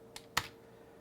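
Code being typed on a computer keyboard while programming an Arduino: two quick, close key clicks, the second louder, over a quiet room.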